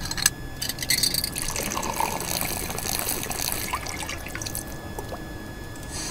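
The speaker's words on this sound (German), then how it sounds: "mit dem Hahn können wir jetzt hier garantiert das Wasser ablassen" Water runs steadily from a tap being opened in a hidden-object puzzle game, a continuous trickling and gushing stream with small drips, moderately loud and close, no voices over it.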